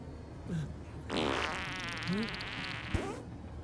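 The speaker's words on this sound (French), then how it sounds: "Tu viens de péter." A loud, buzzing fart with a rough, flapping texture lasts about two seconds, with short squeaky noises before and after it and a sharp click near the end.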